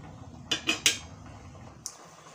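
A metal lid clatters onto a cooking pan with three quick knocks close together, then a lighter tap a moment later, in a quiet home kitchen.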